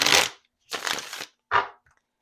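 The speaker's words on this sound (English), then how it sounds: "One more shuffle for this card deck here" Tarot cards being shuffled by hand, three quick riffling bursts separated by short pauses, close and fairly loud with no talking.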